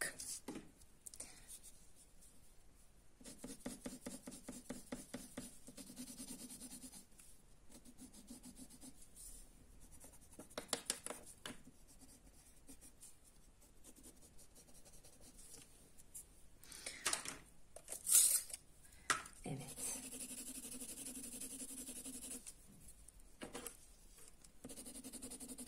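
Colored pencil strokes on paper while drawing a basket of apples, a soft close scratching rasp in repeated bursts with quiet gaps.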